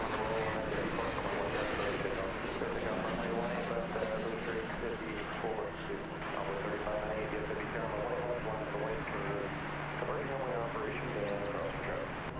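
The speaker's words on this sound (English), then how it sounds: "That was American Flight 2480, an Airbus A320 off to St." An American Airlines Airbus A320 takes off from Dallas Fort Worth Airport with a sustained engine roar and steady low tonal hum, while a person talks over it in the foreground.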